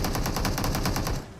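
Rapid automatic gunfire from a video game, a steady burst of close, loud machine-gun shots running for over a second before easing slightly at the end.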